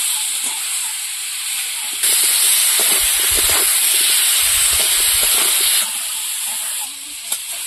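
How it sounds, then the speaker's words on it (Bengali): Vegetables sautéing with salt and turmeric in a pan while cooking kohlrabi with fish, a steady loud sizzling hiss that swells midway, with scraping stir strokes throughout and no talk. "লবণ, হলুদ, সবজিটা এবার ভালো করে কষিয়ে নেব।"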